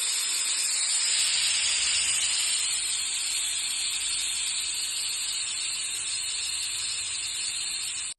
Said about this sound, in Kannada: ಈಗ ಕುಕ್ಕರ್ ಉಸಿರೋಗಿದೆ